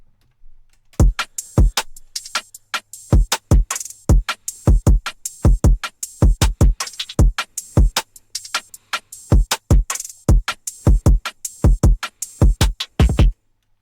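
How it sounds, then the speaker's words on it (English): Trap beat drum pattern with sharp, stuttering kicks and crisp percussive hits, loud and close, set against an otherwise quiet background. "So the drums that go together with that sound like this."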